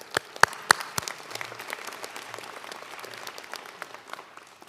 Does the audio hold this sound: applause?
yes